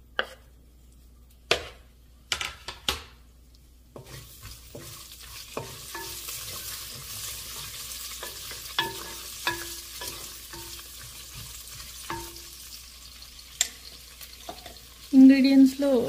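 Green chillies and garam masala fried in a pan for mutton keema biryani, with scattered spoon knocks and scrapes against the vessel over a quiet sizzle and a louder burst of frying near the end.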